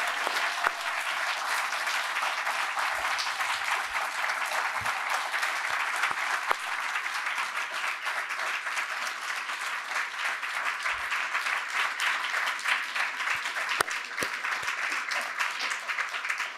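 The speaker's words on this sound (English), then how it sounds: "give Dr. Edwards one more big round of applause" A university lecture audience gives a closing round of applause for a guest speaker on sport and society, sustained dense clapping at moderate level with a few sharper individual claps standing out.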